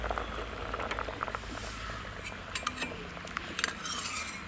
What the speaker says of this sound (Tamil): தேங்காயெல்லாம் ஊற்றினதுக்கப்புறமா நல்லாவே கொதிச்சிருச்சு.